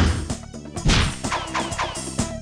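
A censored gunshot moment from Pulp Fiction played as a cartoonish game sound effect, a quick flurry of whacks, crashes and whooshes over bouncy musical tones, loud and close with no talking.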